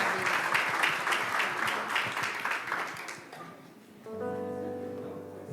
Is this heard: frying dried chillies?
no